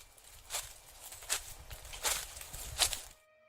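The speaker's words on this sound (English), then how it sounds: "I heard footsteps quietly approaching my window" Soft, slow footsteps approach outside a window, four muffled steps spaced evenly on rustling ground, quiet and close, then abrupt silence.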